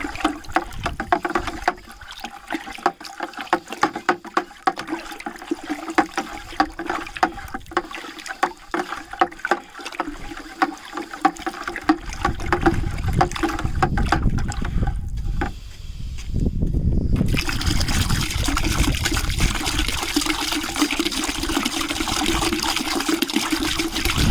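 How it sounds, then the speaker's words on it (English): PVC pipe stirring water and dissolved hydroponic nutrient chemicals in a bucket, a steady sloshing and churning that swells louder partway through and continues close and alone with no talk. "I'm going to go ahead and stir this up, start stirring it to dissolve the chemicals within it."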